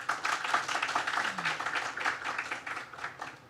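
An audience at a forum on youth addiction claps to welcome a speaker, a steady, moderately loud patter of many hands in a hall, holding for several seconds.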